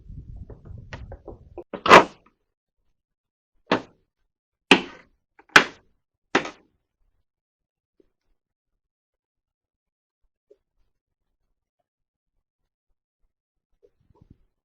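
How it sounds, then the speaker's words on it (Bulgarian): The door of an Opel Vivaro van is handled during a tail light replacement. A few sharp clunks and knocks are spaced over several seconds, close and distinct, and then the clip goes quiet. "Отваряме вратата."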